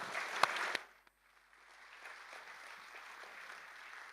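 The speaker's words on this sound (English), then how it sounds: "please, everyone, join me in applauding these gentlemen" A summit audience applauds a panel of financial leaders, a brief burst of claps that fades quickly into a quiet hall murmur.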